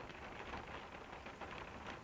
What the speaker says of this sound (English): As it stands right now, it's still raining outside